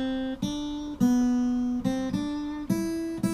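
A solo guitar plucks God Save the Queen, a slow, stately melody with dotted rhythms in 3/4 time, each single note ringing clearly before the next.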